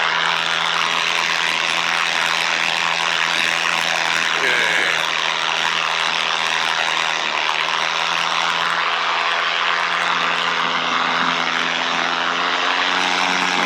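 A paramotor engine drones loud and constant in flight over Wisconsin, a close, steady propeller buzz filling the whole stretch with only slight shifts in pitch.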